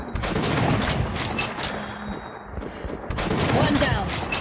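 Gunfire in the video game Metro: Last Light, loud bursts of rapid shots with a quieter lull midway before the firing resumes, mixed with game sounds.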